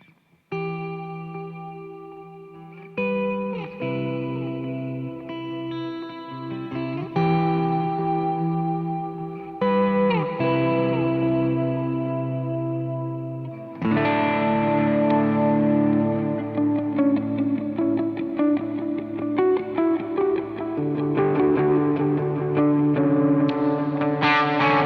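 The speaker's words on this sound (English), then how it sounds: "let's listen to it in context with my reverb and delay." An electric guitar plays through a small worship pedalboard with an edge-of-breakup tone, reverb and delay, giving sustained chords and ringing notes with echoing tails, loud and unaccompanied, changing in phrases over about twenty-five seconds.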